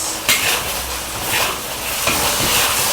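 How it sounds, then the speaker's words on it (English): Eggplant is flash-fried and stirred in a hot wok with gravy, giving a steady sizzling hiss under repeated metallic scrapes and clinks of the utensil against the pan. "Add back the eggplant to the wok. Have a flash fry and mix for 10 seconds."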